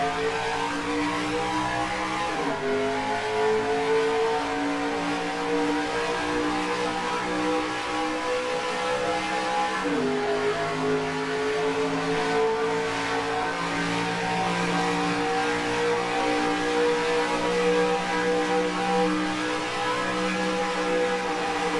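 Sim race cars in NASCAR Racing 2003 accelerating together at a race start at SimTel, a loud, continuous engine roar with rising and shifting revving tones from the pack throughout.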